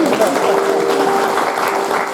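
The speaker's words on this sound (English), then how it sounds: "Round of applause for Jess." A burst of audience applause at a winter party, steady and fairly loud for a couple of seconds, with a faint tone running underneath.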